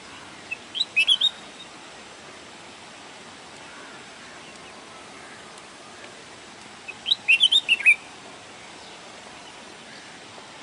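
A bulbul sings two short, bright phrases of warbling notes, one near the start and another after a long pause, clear against a soft, steady background hiss.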